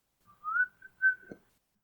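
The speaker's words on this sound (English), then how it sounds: "Peter always continues whistling at once when he gets no answer, and continues the tune exactly where he left it off" A single person whistles a short tune, a few clear sliding notes over about a second in a quiet setting.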